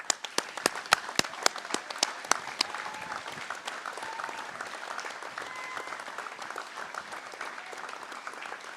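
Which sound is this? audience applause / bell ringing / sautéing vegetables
audience applause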